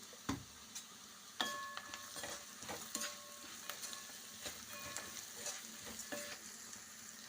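Chopped onions frying in a pan with a pinch of salt for a potato-peanut curry, a faint, soft sizzle broken by light spatula taps and scrapes at irregular intervals.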